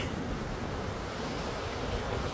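Sea waves wash ashore on a cool, windy seashore, a continuous soft rumble of surf mixed with wind buffeting the microphone, with no voices.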